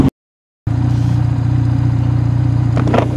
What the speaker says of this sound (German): ich fahre das erstmal Offroad mit der BMW